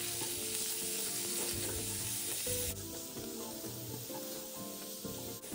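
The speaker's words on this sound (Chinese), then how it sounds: "接着再将预先备好的肉末一起倒入拌炒，" Minced pork with soaked dried shrimp being stir-fried in a wok, a loud continuous sizzle and hiss with dense crackling and occasional scraping of the spatula, close up and steady throughout, no voices.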